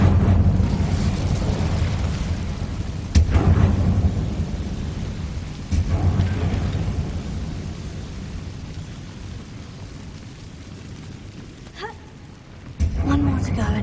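An Incendio fire spell cast in the Hogwarts Legacy video game brings loud whooshing bursts, each followed by a rumbling, rolling roar, repeated several times over a steady low background.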